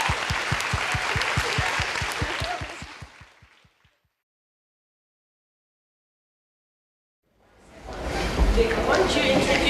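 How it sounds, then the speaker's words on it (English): Audience applause at a live event, with a steady rhythmic clapping pattern fading out over a few seconds. A stretch of silence follows, then a noisy burst of crowd sound returns. "Let's give her another round of applause."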